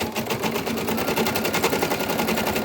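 An embroidery machine stitching a reinforcement round and a zigzag stitch, a loud, rapid, continuous mechanical chatter of needle strokes close by, unbroken for the whole moment.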